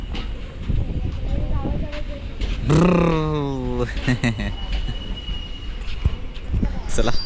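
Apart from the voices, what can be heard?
freight train passing at station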